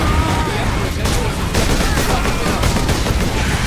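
Dense gunfire from the video game Warhammer 40,000: Space Marine rattles continuously in rapid overlapping bursts, loud and close throughout.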